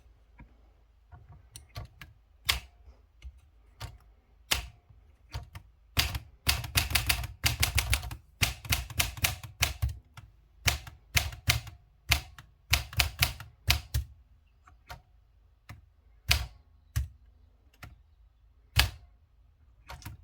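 A 1962 Olympia SF manual typewriter being typed on, some top-row keys binding: close, crisp key strikes in irregular bursts, dense clattering runs in the middle and sparser single clacks toward the end.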